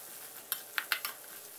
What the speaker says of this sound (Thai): แล้วก็ให้เราผัดให้เข้ากันนะครับผัดให้3เกลือเราแตกกลิ่นหอมเลยนะครับ